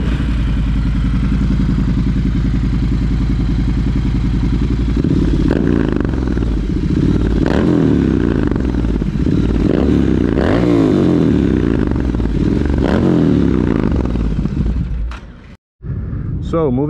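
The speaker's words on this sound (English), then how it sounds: "let me go ahead and give it a rev so you guys can listen to it" A Triumph Scrambler 1200 motorcycle with an aftermarket exhaust idles steadily, then is revved in several loud, close bursts, dropping back toward idle between them before a brief cut near the end.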